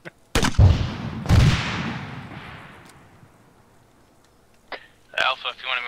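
Gunfire in the ArmA III military game, with two loud, close booming shots that echo and fade over a couple of seconds, then fainter distant cracks and a voice speaking at the end.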